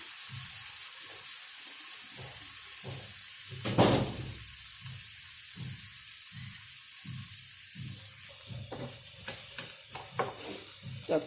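Jackfruit seed stir-fry sizzling in a pan over high heat, a constant hiss with rhythmic scraping strokes of a spatula stirring, plus a louder burst midway.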